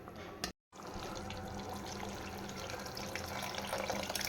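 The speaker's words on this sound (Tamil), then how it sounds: "நான் இன்னும் கொஞ்சம் போல் தண்ணி ஊற்றிக்கிறேன்." Water poured into a simmering spicy Tamil fish curry (meen kuzhambu) made with tamarind, a steady splashing flow that drops out for a moment and then continues unbroken, close and moderately loud.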